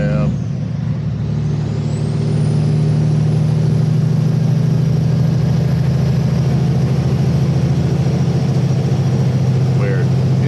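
A heavy diesel cattle truck rumbles loudly close by, its deep engine droning steadily as it rolls past, with a brief hiss of air near the start.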